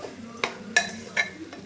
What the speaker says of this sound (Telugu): మొత్తం కలిసేలా కలిపేది ఒకసారి